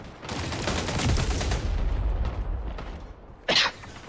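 A rocket launcher fired in a video game: a sustained roaring, crackling blast that fills the first few seconds, followed by quieter rumble and one short sharp burst near the end.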